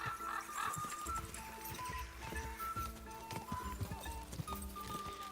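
Horse hooves gallop in a rapid, steady clip-clop rhythm in the medieval video game Kingdom Come: Deliverance II, loud and continuous, with occasional whinnies and game music layered underneath.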